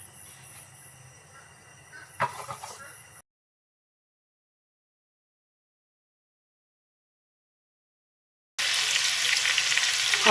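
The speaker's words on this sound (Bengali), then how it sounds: "আগে আমি মান কচুটা ভেজে নিচ্ছি।" Giant taro (maan kochu) pieces frying in hot oil in a pan, a steady bright sizzle with a few stirring scrapes, broken by a long stretch of silence before a louder burst of crackling resumes.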